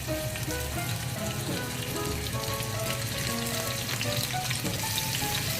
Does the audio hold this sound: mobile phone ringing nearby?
no